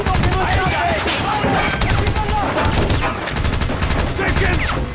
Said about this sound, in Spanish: ¡Dejen de disparar!